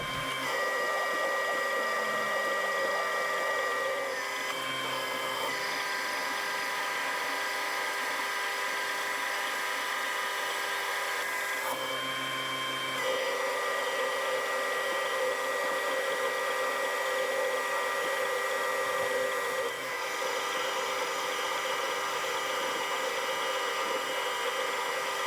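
Metal lathe turning down a workpiece diameter with a tool in a quick-change tool post, a steady whining machine drone with tonal bands that briefly shifts or pauses between cuts.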